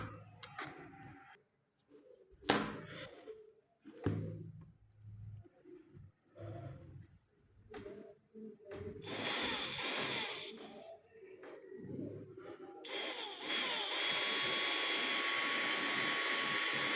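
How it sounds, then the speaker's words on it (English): A 12V 775 DC motor starts up after scattered handling knocks, then runs with a loud, steady whirring roar that grows stronger in the last seconds, close by, with no talking. "Now let's turn on this motor."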